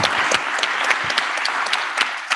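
Audience applause at a rural innovation award ceremony, a short burst of steady clapping with distinct individual claps popping out of the crowd sound.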